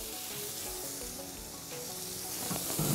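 Steady sizzling and crackling of bacon-wrapped elk medallion skewers cooking over high heat on a pellet grill, continuous and fairly loud, with no voices.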